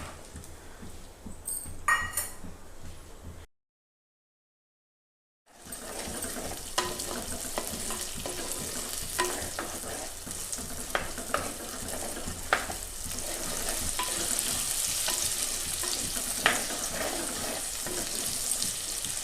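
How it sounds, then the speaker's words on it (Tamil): Small onions fry in hot oil in a village-style kitchen, giving a steady, dense sizzle and crackle up close. A short silent gap breaks it early, and then the frying continues unbroken. "எண்ணெய் இப்போ காஞ்சிருச்சுங்க இப்போ சின்ன வெங்காயம் போட்டுக்கலாம்"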